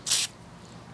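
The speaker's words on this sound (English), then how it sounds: "Just want to spray the jets real quick." A single short hiss of carburetor cleaner sprayed onto the carburetor jets of a lawn mower, close and bright, lasting a fraction of a second before fading to quiet room tone.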